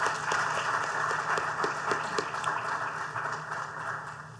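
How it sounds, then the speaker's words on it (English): An audience at a policy discussion applauds school principals, with steady, moderately distant clapping that fills the room and slowly tapers off. "So please give a round of applause for our outstanding educators in the room."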